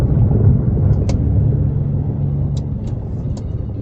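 A Honda Civic with manual transmission on a test drive, a close steady engine and road rumble with a few faint clicks over it.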